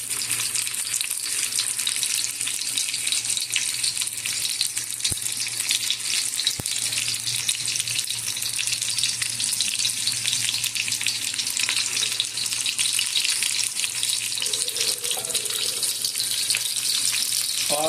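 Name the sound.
chicken frying in a pan until golden brown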